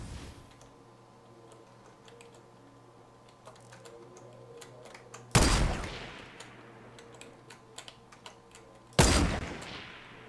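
Gunfire in the video game Fortnite: two loud, sharp shots several seconds apart, each with a decaying tail, over quiet background clicks and faint ambient tones.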